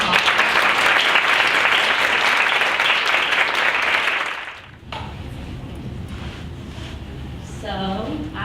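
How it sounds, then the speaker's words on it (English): An audience at a women in leadership panel discussion gives sustained, dense applause for the panelists, loud and steady for several seconds before fading out, after which a room murmur and a speaking voice follow. "can we give our panelists a round of applause?"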